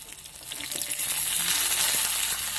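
Ingredients for Maharashtrian masale bhat sizzle and fry while being sautéed in a pan, a steady, close hiss with faint soft stirring clicks, no voices.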